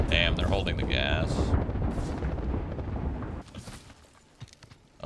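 A grenade explodes in a video game with a heavy, rumbling blast under overlapping voices and gunfire. The noise then drops away to quieter scattered sounds.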